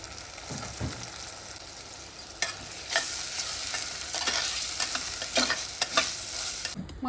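Chicken with chilli paste and finely chopped tomatoes stirred in a frying pan, a steady close sizzle broken by repeated scraping strokes of a spoon against the pan, with no talking.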